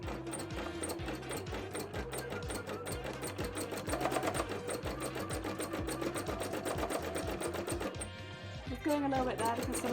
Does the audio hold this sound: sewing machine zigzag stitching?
yes